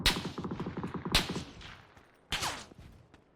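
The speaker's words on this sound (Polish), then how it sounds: "Ty, tutaj jakiś tłumik słychać." Suppressed gunfire in the video game PUBG: a rapid burst of muffled shots, a second burst about a second later, then a sharper louder shot, all fairly distant and without talk.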